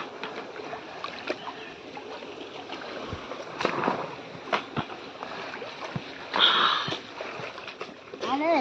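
River water splashes and sloshes near the bank as clothes are washed in a village river in Konkan, with intermittent slaps and splashes over a continuous flowing background, close by, while people talk in the background.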